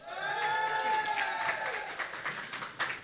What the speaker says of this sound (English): Can I hear the crowd?